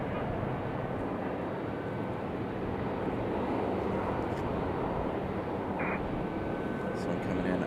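An American Republic Airways Embraer E-175 jet airliner arrives at Raleigh-Durham International Airport from Nashville with a broad, steady rumble and roar. The sound is continuous and slowly swelling at a moderate distance, with wind buffeting on the microphone.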